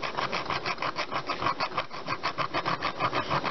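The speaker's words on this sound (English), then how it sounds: "file it flat so you know it touches the whole battery terminal" A metal file rasps back and forth across a battery terminal to flatten it while an off-grid battery bank is wired, a steady run of quick, even scraping strokes heard close and alone.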